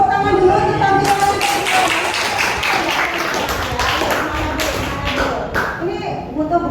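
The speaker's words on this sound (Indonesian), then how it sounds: "tepuk tangan dulu untuk tampilan." A classroom audience claps for a group presentation, a steady patter of many hands close by for the whole stretch, mixed with some voices.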